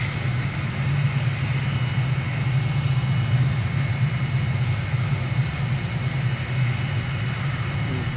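Steady, loud airplane engine drone from Microsoft Flight Simulator during a landing approach with flaps and gear down, a constant low roar holding unbroken throughout with no voices.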